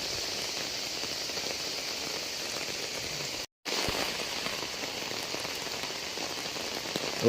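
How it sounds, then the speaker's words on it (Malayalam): Heavy early-morning rain pours down steadily, a dense even hiss of drops on surfaces near a car shed, with a momentary cut midway and no voices. "കണ്ടോട്ടെ മഴ പെയ്യുന്നത്"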